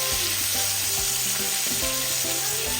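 Pork chops deep frying in a pot of oil, a steady dense sizzle and crackle close up, continuous and loud, with no talking.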